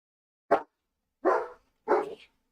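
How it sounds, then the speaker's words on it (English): A dog indoors barks at a big truck outside, three short, sharp barks spaced about a second apart, close and loud against silence. "He wants to go outside so he can bark at somebody that's outside."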